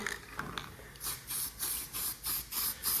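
Paint spray gun spraying blending clear over a painted panel, loud hissing bursts in a steady rhythm of about six short passes, close by and alone.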